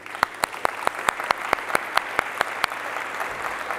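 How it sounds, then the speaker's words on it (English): Steady, evenly spaced claps ring out at a brisk pace for several seconds in an event hall during the Transport for Wales Lab demo day in 2022, with no voices over them. "give a massive round of applause for everyone at Labs"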